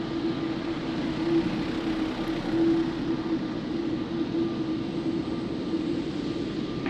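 A United airliner rolls for takeoff on runway 02 at Lisbon Airport, producing a steady, broad jet roar with a faint constant whine that holds evenly throughout, heard from a moderate distance with no talk.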